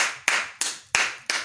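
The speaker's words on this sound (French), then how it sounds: "Applaudissons pour lui." Rhythmic hand claps, four or five crisp strikes at an even pace, each fading quickly, from a single clapper or a small group at an event, with no talk over them.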